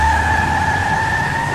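A car in a video game skids, its tires letting out a steady, loud, high-pitched squeal that holds for a second and a half.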